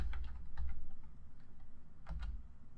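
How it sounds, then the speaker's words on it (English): Quiet clicking of keys on a computer keyboard, short irregular bursts of taps over a low background hum, with no one talking. "what I can do is start typing"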